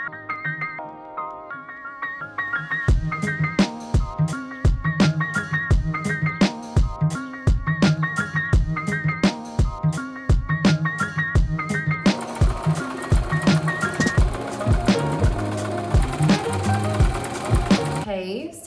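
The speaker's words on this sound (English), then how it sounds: "I'm gonna sew quilting lines down the length of the fabric" A sewing machine sews quilting lines along fabric in steady rhythmic bursts of rapid stitching, loud and close, speeding into a continuous dense whir near the end.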